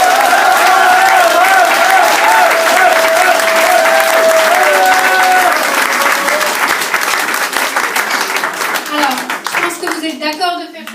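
Restaurant audience applauding with sustained crowd clapping, loud and close, while scattered voices and cheers rise over it before the clapping thins out toward the end.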